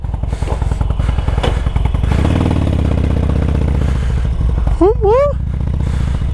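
A 2008 Harley-Davidson Sportster 1200 motorcycle rumbles loudly and close at a low, steady throb as it pulls away, with a brief rising whistle-like chirp over the engine partway through.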